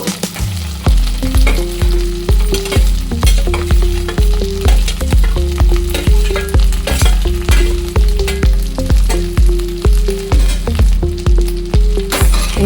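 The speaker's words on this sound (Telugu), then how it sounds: "ఇప్పుడు మనం వేయించి పెట్టుకున్న బెండకాయ ముక్కలు వేస్తున్నాను" Fried okra pieces and curry leaves are tossed in a loud sizzling pan, a strong continuous fry with rhythmic metallic scraping strokes of a spatula repeating steadily throughout.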